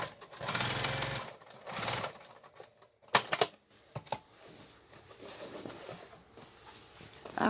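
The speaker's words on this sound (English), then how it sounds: "Now I'm going to open that seam up and lay it down flat and stitch it down." A sewing machine stitches an opened denim seam flat on a bag made from old jeans, running in several loud bursts with short pauses between.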